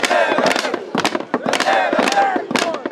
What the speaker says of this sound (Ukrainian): Міліція з народом кричать, б'ють у щити.